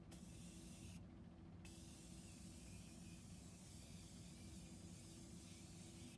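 A makeup sprayer releases a steady, close hiss of fine mist that stops briefly near the start, then sprays continuously to the end, with no talking.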